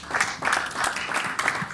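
An expo audience applauding a photography presenter, steady moderate clapping from a crowd that swells in a few waves, somewhat distant and fairly soft.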